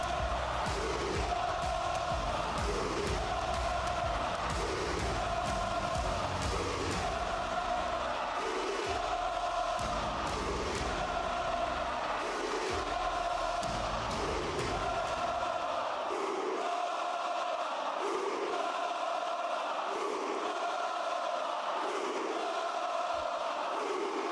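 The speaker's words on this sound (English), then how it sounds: "Insane crowd." A huge football stadium crowd in Italy roars before a match, rhythmic chanting surging in regular waves that fill the space, loud and sustained with no break.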